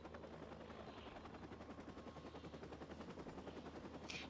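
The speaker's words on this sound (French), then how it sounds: "C'est l'hélicoptère qui me voit." In-game helicopter from Watch Dogs, a continuous pulsing rotor drone with rapid gunfire bursts mixed in and a brief sharp burst near the end.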